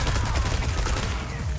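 Gunfire in the Resident Evil 4 remake video game, Mercenaries mode on the island stage, a dense rapid burst of loud shots over a continuous rumble.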